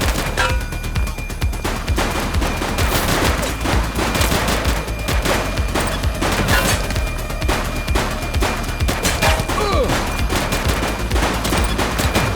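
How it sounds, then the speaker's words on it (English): Heavy, sustained gunfire from a police shootout in the video game The Precinct: dense overlapping shots and bursts, loud and close, rattling on continuously with no pause across the whole stretch. "Shots fired!"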